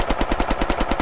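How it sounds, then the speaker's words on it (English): Rapid gunfire from a secondary pistol in the video game Unturned, about ten loud evenly spaced shots in a fast steady burst, close and unaccompanied. "But I'm going to just shoot."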